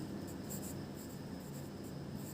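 A pen scratches out an answer by hand on paper, soft and close, as a steady faint scribbling over a quiet room hum.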